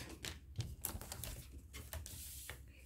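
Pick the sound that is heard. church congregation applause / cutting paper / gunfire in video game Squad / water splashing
cutting paper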